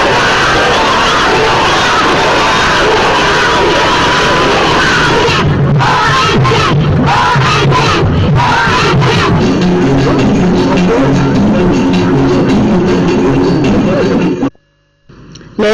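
A street crowd in the city of the Rails cheers and roars as the presidents of Mali, Senegal and Mauritania and Guinea's prime minister pass along the main avenues. Loud, dense yelling fills the scene, then it cuts to near silence just before the end.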